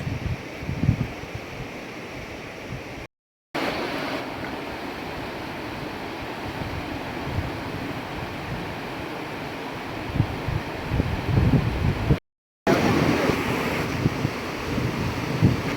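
Fast-flowing river water rushes beneath a bridge in the hills near Dehradun and Mussoorie, a broad continuous roar mixed with wind buffeting the microphone, steady and loud, broken by two brief silent gaps.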